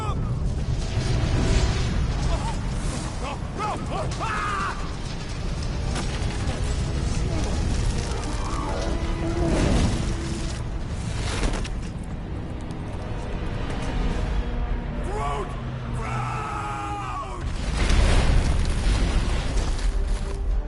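A rocket explosion in the video game Marvel's Guardians of the Galaxy, heard as deep booming bursts among character voices and music, with a heavy blast near the end.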